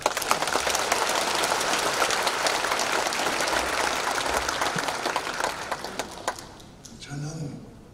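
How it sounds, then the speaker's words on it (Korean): A congregation claps steadily in a church hall at a thanksgiving worship service for a vice-moderator's inauguration, the dense applause lasting about seven seconds before fading, followed by a brief voice near the end. "박수 한번 해주시고"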